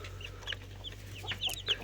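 Day-old native chicks cheep in short, high, scattered peeps, close by over a low steady hum.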